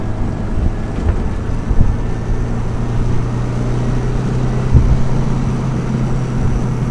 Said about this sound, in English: First test drive of the H22 swap hatch.